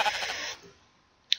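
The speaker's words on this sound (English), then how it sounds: "Oh, shut up, sheep." A Minecraft sheep in Tekkit Lite gives a short, close bleat that fades out, followed by a faint brief click.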